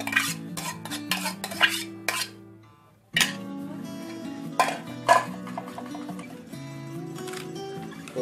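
Minced pork and other ingredients stirred in a pot for a Thai glass noodle salad, with utensils scraping and clinking against the metal in a busy, continuous rhythm, close and fairly loud, pausing briefly midway.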